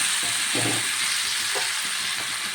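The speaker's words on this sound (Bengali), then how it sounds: "এবার ভালো করে ভেজে নেব আলুগুলো একটু নুন হলুদ দিয়ে ভেজে নিচ্ছি" Boiled, peeled potatoes frying in oil with chili powder, turmeric and salt, a steady broadband sizzle running throughout with soft stirring scrapes, close and alone with no talk.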